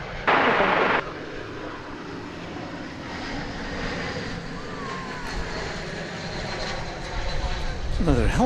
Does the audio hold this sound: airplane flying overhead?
yes